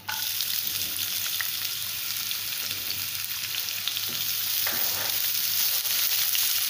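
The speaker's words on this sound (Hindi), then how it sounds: "इसको फ्राई करेंगे।" Chopped onion for soya pulao frying in a pan, heard as a steady close hiss of sizzling oil with a few faint pops and stirring scrapes, no voices.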